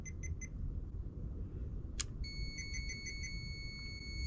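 A multimeter sounds a continuity beep while testing a relay on a Toyota Corolla FX16 GTS: a few short quiet beeps, a brief click, then a steady high tone that holds to the end over a low background hum.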